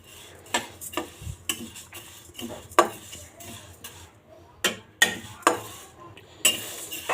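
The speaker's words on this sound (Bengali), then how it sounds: "ডালটাকে একটু লালচে লালচে করে ভাজতে হবে" A metal spatula clanks and scrapes against a pan while lentils (dal) are fried until reddish and stirred for a fish-head muri ghonto. The strokes are sparse and irregular, moderately close, with no talk.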